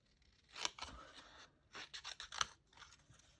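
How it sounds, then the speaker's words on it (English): Quiet, irregular snipping and crunching as hand snips trim around the edges of a paper card sentiment, with short bursts of cuts separated by brief pauses. "with my snips, I've just eyeballed around the edges of it"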